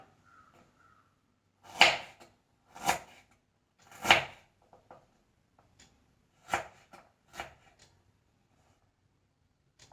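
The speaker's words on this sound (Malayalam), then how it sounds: "ഈ ഇഞ്ചി ഒന്ന് ചെറുതായി കട്ട് ചെയ്ത് വെക്കാം" Several sharp knife chops through ginger on a board, spaced irregularly in two short bursts, close and clear against near silence.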